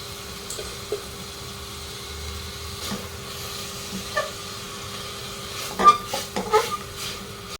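Washed fenugreek leaves and beans fry in a pan, giving a faint, steady sizzle broken by scattered stirring scrapes and a cluster of louder utensil knocks near the end.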